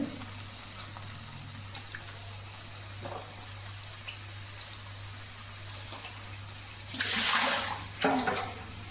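Water is poured into a cooking pot while cauliflower and chana dal fry are made. A low steady hum sits under it, and two short splashing bursts of pouring come near the end.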